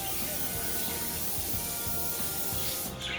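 A steady, close hissing spray of cooking oil onto a baking tray runs almost the whole time, like an aerosol being pressed continuously, before cutting off near the end.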